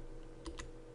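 Typing on a computer keyboard, two quick, faint key clicks in close succession against a quiet background.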